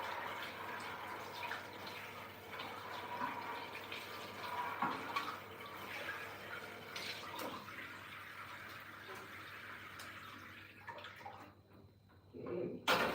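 A kitchen tap runs steadily while a cheese grater is rinsed, a close, continuous splashing stream that thins out near the end before a brief louder burst.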